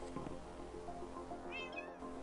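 Cats meowing in the video game Minecraft with the Tekkit modpack, a couple of faint high meows near the end over a low steady background hum.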